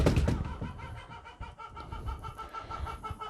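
A loud, aggressive hen clucks and squawks in rapid bursts near the microphone, with farmyard background noise throughout.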